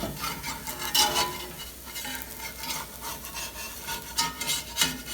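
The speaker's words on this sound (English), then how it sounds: "you just go around with your spatula, and then you can turn it over" A spatula scrapes around the edges of a dosa cooking on a pan, a run of close, rasping strokes of uneven rhythm over a faint sizzle, with nobody speaking.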